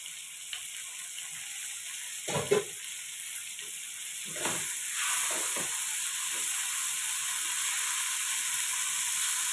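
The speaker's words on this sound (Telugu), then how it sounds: "ఓకే అండి ఆనియన్స్ ఫ్రై అయ్యాయి మనం అల్లం పేస్ట్ వేసుకుందాము" Onions frying with ginger paste in a pan, a steady soft sizzle throughout with a few clinks and scrapes of a spoon stirring early on, the hiss swelling a little toward the end.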